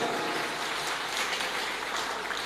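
Steady, dense applause from a large crowd, sustained and fairly even throughout, heard from some distance.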